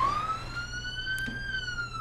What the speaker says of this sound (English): Weirdly enough, the sirens are still going.